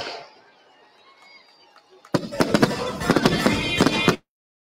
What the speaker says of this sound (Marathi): 61व्या वाढदिवसाची ही 61 तोफांची सलामी आता आपण बघूया